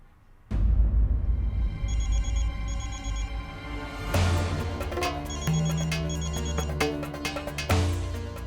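A telephone ringtone plays: repeated electronic trilling rings in two pairs of bursts over a loud, full melodic backing.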